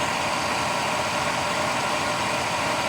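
A 2007 GMC truck engine idles with a whining noise from the front lower area near the harmonic balancer, a steady, close, dense hum and whine that holds unchanged throughout.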